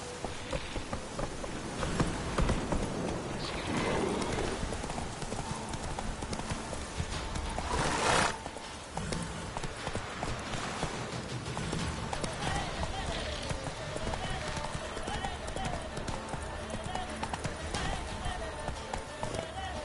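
Roach the horse galloping in The Witcher 3, rapid rhythmic hoofbeats pounding steadily throughout at close range, mixed with game ambience and a voice talking over it.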